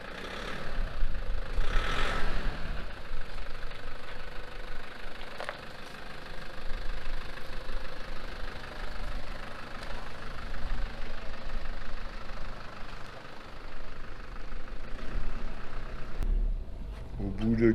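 Old truck engine idling steadily through the whole stretch, a low continuous rumble with faint knocking, a brief louder burst near the start and a muffled voice speaking underneath.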